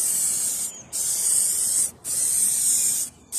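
Aerosol spray paint can laying a coat on a bus panel, three long close hissing bursts separated by brief pauses, loud and steady with no talking.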